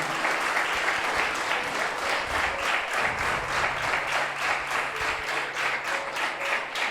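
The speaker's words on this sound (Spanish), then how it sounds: "Denle un fuerte aplauso al Señor." Church congregation applauding continuously, a dense steady wash of many hands clapping that fills the room for several seconds.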